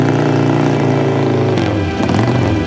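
A big 1300 cc Vincent motorcycle engine runs loud and steady, its deep throb rising in pitch partway through as the rider revs it.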